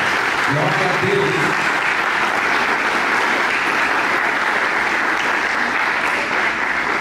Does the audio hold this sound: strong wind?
no